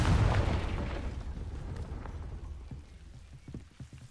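The Confringo explosive spell in Hogwarts Legacy goes off as a loud low boom that decays into rumbling debris and crackle, with a few small impacts near the end.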